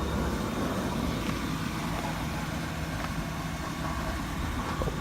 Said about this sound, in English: A little bit of a rattle coming from the exhaust down there.